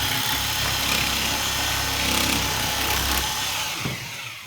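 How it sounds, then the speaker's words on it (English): A reciprocating saw fitted with a bone blade cuts through a pig carcass during home butchering, a continuous loud buzzing rasp of the blade that eases off near the end. "So you just got a clean blade on a sawzall, right?"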